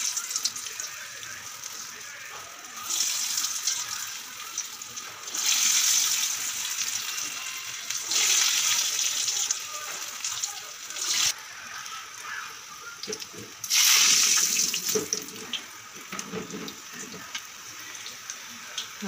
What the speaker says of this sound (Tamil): எண்ணெய் சூடாயிடுச்சு இப்போ எல்லா வடையும் போட்டுடலாம்